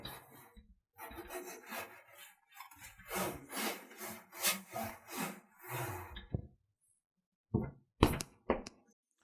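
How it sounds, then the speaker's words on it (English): A microfiber cloth wipes dust off the top of a very dusty desktop PC case, rough rubbing strokes in uneven bursts with pauses and a few sharp brushes near the end, close and without talk. "I'm going to start off by taking a microfiber cloth and just take it off."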